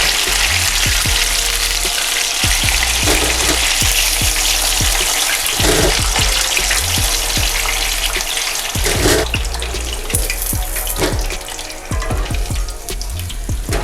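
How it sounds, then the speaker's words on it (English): Chicken frying in hot oil, a loud, constant sizzle and crackle with scattered pops throughout, heard close up with no talking. "I'm going to continue the process until I'm done frying the remaining chicken"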